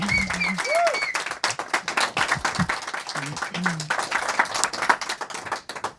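Audience applause and clapping at the Green Hush Award ceremony for the EV sector at COP30, steady dense clapping across the whole stretch mixed with voices and scattered cheers.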